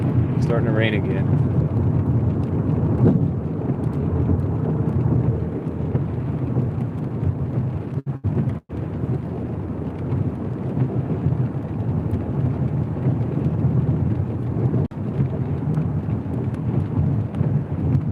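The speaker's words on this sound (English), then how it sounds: "Starting to rain again." Steady rain and storm noise wash over a moving delivery run, a broad constant hiss with low rumble throughout and a brief dropout midway, with speech faintly present.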